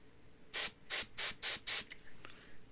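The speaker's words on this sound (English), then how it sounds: "Spray a little compressed air here through" Compressed air sprayed into the detent hole of an AR rifle receiver, five short loud hissing bursts in even rhythm, close up, followed by a couple of fainter puffs.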